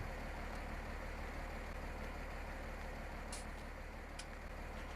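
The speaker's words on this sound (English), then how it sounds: "So I'm just going to back that planter up on the trailer." A tractor in Farming Simulator 19 backs a planter onto a trailer, its engine a steady, dense idling rumble throughout, with a couple of brief sharp clicks near the end.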